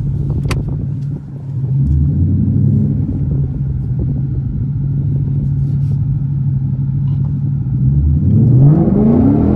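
A tuned Ford Mustang GT engine holds a loud, steady rumble near idle, then revs up sharply toward the end as the wheels spin, heard close and continuous.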